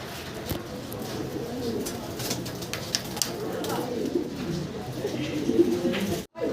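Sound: pair of yellow Andrope pigeons cooing

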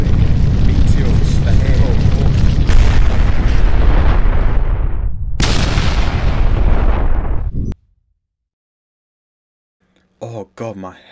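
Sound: meteor impact explosions in Minecraft video game

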